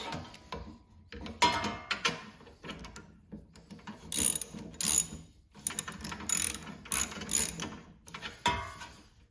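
Ratchet with a 5/8 socket clicks in repeated bursts while loosening the spark plug on a Mow-N-Vac, close and fairly loud, with brief pauses between runs of rapid pawl ticks.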